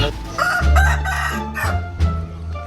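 Fighting cock crowing loudly and close by, a drawn-out cock-a-doodle-doo with harsh rising and falling calls and some clucking.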